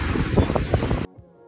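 A breeze at the beach buffets the microphone with loud, gusty rumble for about a second, then cuts off to quiet.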